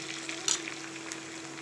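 Bitter gourd dropped into hot oil with cumin, a soft steady hiss of frying with a couple of brief brighter crackles, close and fairly quiet, no voices.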